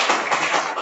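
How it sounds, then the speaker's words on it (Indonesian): Classroom applause from a group of students, a dense, steady patter of many hands clapping together at close range, filling the moment without voices. "Tepuk tangan untuk kita semua."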